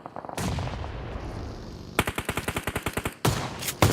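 Automatic and rapid gunfire from a PUBG Mobile esports match at the Global Championship, loud close bursts followed by a steady run of evenly spaced shots, then another dense burst, with no voices over it.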